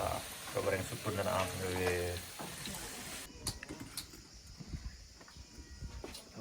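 Food frying in a pan, a steady crackling sizzle heard faintly under people talking, with clattering in the background.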